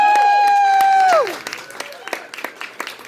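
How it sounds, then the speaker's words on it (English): Audience applause and cheers at a standup comedy show break out as a sustained tone cuts off, leaving dense clapping from a crowd in a room. "so let's give her a big hand!"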